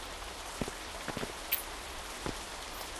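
Steady rain falls in the Animal Company VR game, a constant broadband hiss with a few brief droplet taps and splashes scattered through it, heard alone without voices.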